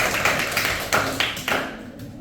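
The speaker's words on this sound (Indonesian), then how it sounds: "Tepuk tangan." A class of seventh-grade students claps hands in a short burst of uneven, close slaps with a few louder accents, indoors, with no clear talk over it.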